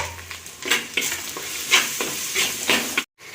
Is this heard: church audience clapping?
no